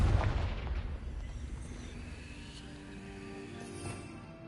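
Confringo blasting spell from Hogwarts Legacy: a deep explosive boom opens, then rolls off into a long, fading low rumble, fairly quiet overall.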